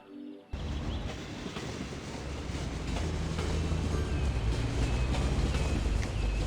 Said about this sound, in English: we should have a wonderful Metrover tram spawning very shortly